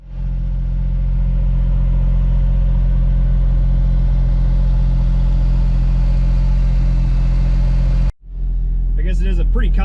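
A 1993 Honda Beat with equal length exhaust primaries runs steadily, its engine note loud and constant before cutting off abruptly near the end, after which a voice speaks briefly.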